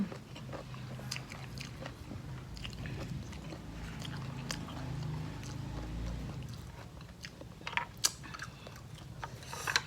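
Crunchy golden apple snails being chewed up close, with irregular crisp bites and clicks over a soft chewing murmur, a few sharper crunches near the end, and no speech.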